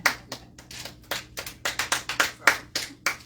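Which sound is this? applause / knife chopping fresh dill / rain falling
applause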